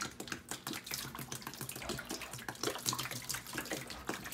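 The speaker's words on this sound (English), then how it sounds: "I'm just gonna pour water on the print." Water is poured into a tray over a Van Dyke brown photographic print, a close, continuous splashing and trickling with small irregular patters throughout.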